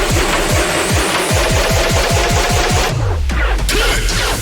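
A dubstep track opens with a drumless fake-out build before the drop, loud repeated descending bass sweeps pulsing in a steady rhythm, then a long falling bass slide as the texture thins out.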